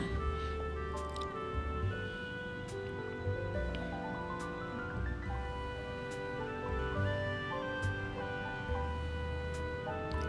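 Boiled pasta being lifted and strained with a perforated ladle, wet squishing and dripping water over a steady background hum, close, with no talking.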